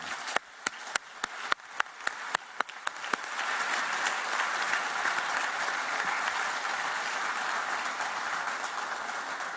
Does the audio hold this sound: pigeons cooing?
no